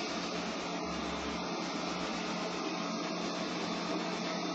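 A Liectroux B6009 robot vacuum cleaner runs with a steady, fairly quiet whirring hiss while picking up dog hair, with a faint low rumble that cuts in and out underneath.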